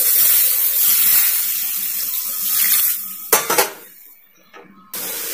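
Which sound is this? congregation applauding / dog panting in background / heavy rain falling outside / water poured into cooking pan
water poured into cooking pan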